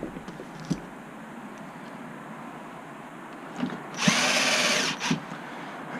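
A power screwdriver refitting small screws during a USB charging port repair gives one brief, close whir of about a second, with faint handling clicks before and after in a quiet room.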